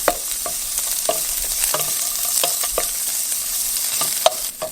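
Mushrooms fry in oil in a pan with a steady, close sizzle and repeated stirring scrapes, and no voices.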